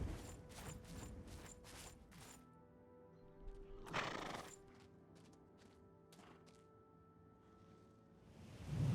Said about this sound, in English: Why do you have so many horses?